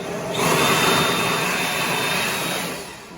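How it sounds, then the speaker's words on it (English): Compressed air blasts out a John Deere 2038r tractor's air filter from the inside as a steady, loud hissing rush that lasts about three seconds before tapering off. "we're also going to blow out this from the inside, blowing it out"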